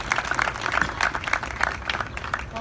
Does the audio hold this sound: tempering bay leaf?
no